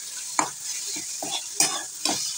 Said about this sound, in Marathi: परतायला पण लागले कढईने जरा